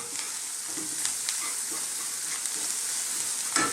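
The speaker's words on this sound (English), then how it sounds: "on this high heat, stirring all the time, because I don't want to burn these powders" Spice powders fry and sizzle on high heat in a pan for a vegan tofu curry. A steady, dense hiss runs throughout, with soft scrapes and clicks from constant stirring.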